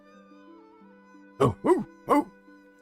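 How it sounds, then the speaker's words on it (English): Dog barking in the video game Final Fantasy XIV, three short sharp barks in quick succession over a quiet, steady musical background hum. "We came across as soon as we heard the barking."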